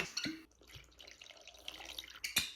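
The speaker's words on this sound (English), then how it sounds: "So I'm gonna go ahead and pour myself a little bit in there." Clamato Caesar poured from a bottle over large ice spheres in a glass: soft trickling and dripping liquid with light clinks of ice, quiet and close, with a sharper clink near the end.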